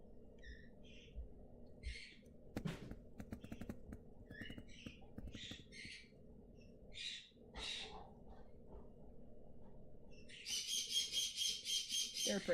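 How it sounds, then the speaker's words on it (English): Pet conures and parrots squawk and screech in bursts from nearby, growing into a loud, rapid run of calls near the end, with soft clicking like typing underneath. "You can hear all the birds in the background."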